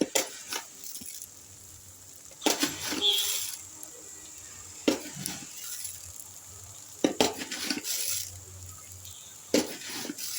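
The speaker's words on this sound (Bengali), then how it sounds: "এবার আমি এর মধ্যে চিনি দিয়ে দিচ্ছি।" Sugar poured into pea halwa in a pan, a few bursts of gritty rattling and clinking against metal at intervals, with quiet pauses between them.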